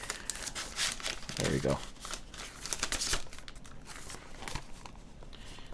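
A plastic zipper bag crinkles and rustles in bursts as a carbon fiber plate for a Meletrix Zoom64 keyboard build is tugged out past tabs catching on the zipper, with a person speaking briefly over the handling noise.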